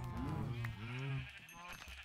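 A cow in Minecraft lows in a drawn-out bleating moo while being attacked, loud and close over steady game background noise.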